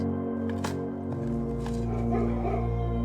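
Dogs bark and yip in the video game Blue Prince, a few sharp barks over a steady game soundtrack, with no talking.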